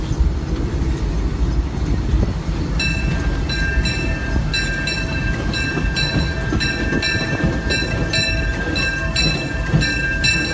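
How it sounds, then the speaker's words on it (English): A Disneyland Railroad train rumbles steadily along the rails into Toontown Station with a loud, continuous low roar, joined partway through by repeated high metallic squeals and clicks as it brakes. "Applying the brakes"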